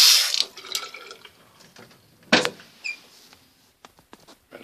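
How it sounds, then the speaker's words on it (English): Water splashes briefly from a bathroom sink faucet in a basement, followed by scattered drips and small clinks in a quiet room. "water runs correctly."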